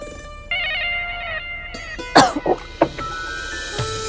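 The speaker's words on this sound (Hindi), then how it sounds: "खांसी आ रही है?" Coughing from a woman in a home, a few harsh bursts clustered mid-clip over a steady tonal background, close and fairly loud.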